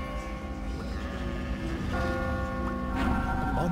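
Sheep bleat in the video game Catherine, several wavering cries over a droning tonal music bed, with a bell-like ring near the end.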